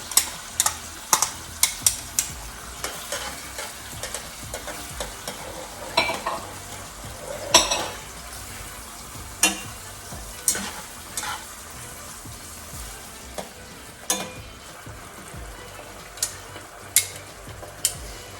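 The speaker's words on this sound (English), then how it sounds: "I'm gonna add the rest of the shallots so they can cook too." Shallots and shrimp fry in a pan with a steady low sizzle, broken by sharp intermittent clicks and pops from stirring and spatter across the whole stretch.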